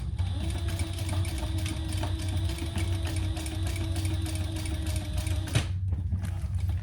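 A sewing machine stitches a crossbody bag, running steadily with a fast mechanical rhythm, close and continuous, then stops abruptly near the end; no talking.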